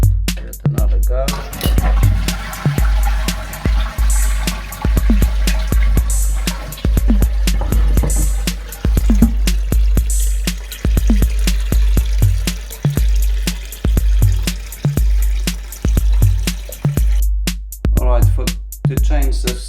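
A toilet fitted with a new dual flush valve is flushed and refills, giving a continuous rush of running water broken by a steady series of low thumps and drips. It is close and fairly loud, with no voices.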